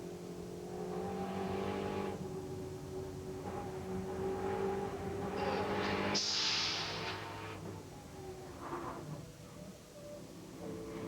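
Onboard engine of a race car in the 2003 Speed GT round at Road Atlanta, heard from inside the car: a steady, loud engine drone that rises and falls with shifts and acceleration, with no talk.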